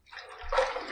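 Running water rinsing an electric shaver at a sink, a short soft splash and trickle lasting about a second, close and quiet.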